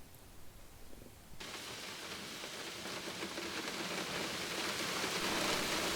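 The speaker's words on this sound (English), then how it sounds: "The rain begins" Rain starts abruptly and keeps falling as a dense, steady hiss that swells slightly louder over several seconds, with no voices.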